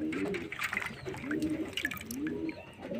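A male pigeon flaps and struggles in a hand while water is splashed onto its wings, giving soft wing flutters, drips and faint cooing, heard up close and fairly quiet.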